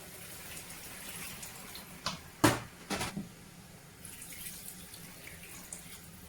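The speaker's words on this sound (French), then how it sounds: "je rajoute de l'eau maintenant pour que ça puisse bouillir" Water poured into a pot of simmering oxtail in a home kitchen, a soft splashing pour with a few louder sloshing bursts in the middle, fairly quiet and brief, with no talking.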